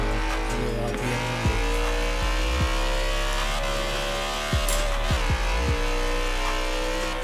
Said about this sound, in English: it's a low rumble from the V8 you want